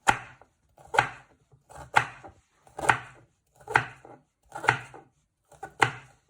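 A knife chops vegetables on a cutting board for fried rice, seven crisp, evenly spaced thuds about a second apart, close and clear with nothing else heard.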